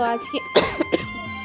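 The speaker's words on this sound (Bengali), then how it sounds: "কিছু মনে করো না, মাঝে একবার কাশলাম" A single sharp cough from someone who is unwell with an ongoing cough, close to the microphone and brief, followed by a couple of softer throaty catches against a quiet indoor background.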